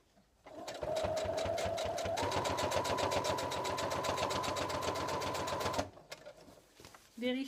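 A sewing machine stitches bias binding onto an ironing board cover, running in a steady, loud, rapid mechanical rhythm for about five seconds before stopping, with brief handling noises after.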